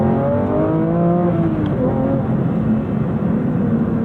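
Porsche 992.2 GT3 Touring flat-six engine pulling hard from inside the cabin, a loud steady drone with rising and sliding harmonics as revs climb and shift, continuous and close with no voices.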